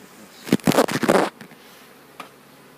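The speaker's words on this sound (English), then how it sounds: "covered with bees, but not crowded" Honeybees at an opened hive, a short burst of buzzing and rustling close by lasting under a second, then quieter background with one faint later flutter, no talk.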